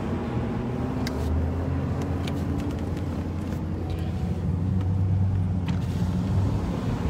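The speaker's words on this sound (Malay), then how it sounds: "Ya lori pegen yang membawa sembako di dalam ada Datuk Mansur." A lorry loaded with food aid supplies rumbles along with a steady low engine drone and road noise, close and continuous, with a few faint clicks on top.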